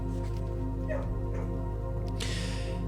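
Dogs in the video game Blue Prince whimpering and yipping in short bursts over a steady humming music bed, fairly quiet and up close.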